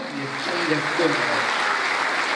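Dinner audience at an anniversary celebration applauding, a dense continuous wash of clapping with faint voices mixed underneath, steady and fairly loud throughout.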